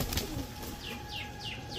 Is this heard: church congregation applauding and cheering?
no